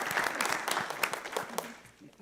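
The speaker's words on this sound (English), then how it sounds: "applause" A room full of people at a school board meeting claps in a dense, steady burst of applause, with a few voices mixed in, tapering off slightly at the end.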